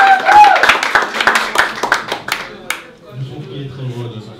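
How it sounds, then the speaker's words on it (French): A crowd at a birthday party claps for Stéphane: a fast, scattered run of hand claps that is dense for about three seconds and then thins out, with voices talking over it. "vous pouvez applaudir pour Stéphane."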